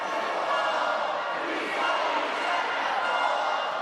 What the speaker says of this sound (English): York's crowd going absolutely into the Lancaster team there